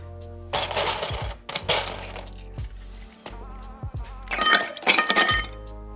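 Ice cubes drop one by one into a cocktail shaker or mixing glass, making a sharp, loud clink and rattle with each cube. The clatters come in separate bursts with short pauses between them.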